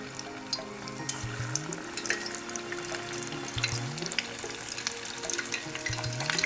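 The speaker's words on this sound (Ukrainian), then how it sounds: "Якщо він вже починає булькати, олія закипіла" Small cheese dough balls fry in bubbling boiling oil, giving a steady crackling sizzle with dense pops and spits, close and fairly loud, while low tonal hum runs beneath throughout.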